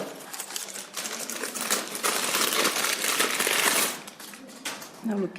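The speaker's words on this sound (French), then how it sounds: "vous allez entendre le bruit formidable d'un papier, d'un sac en papier" Dense, continuous crinkling and rustling of a paper bag being handled, fairly loud and close, with brief pauses near the end.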